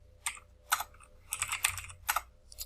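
Someone typing on a computer keyboard, five or six quick clusters of clacking keystrokes, close and clear, with no talking.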